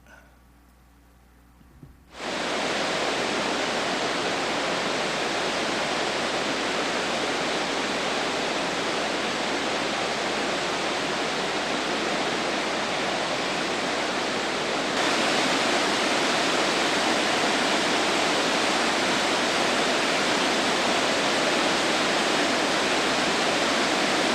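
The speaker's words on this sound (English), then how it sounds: "Let's take a look at about a 30-second little video of Ithaca Falls when it's got this kind of water on it." Ithaca Falls, a gorge waterfall in spring with heavy water, roars in full flow: a dense, steady, loud rush that starts abruptly after a quiet moment and holds unbroken throughout.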